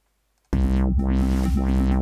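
FL Studio dubstep beat built with Sytrus, entering suddenly after a half second of silence: a sustained, wobbling synth bass that sweeps up and down in a steady pulse, with a thin, barely audible kick underneath.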